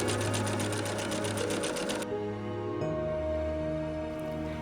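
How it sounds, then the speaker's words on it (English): Sewing machine running a decorative stitch with cream thread on a pinafore, rapid rhythmic mechanical whirring up close that stops about halfway, then quieter motor hum. "I switched my thread to a lighter cream color and chose a fun stitch on my machine."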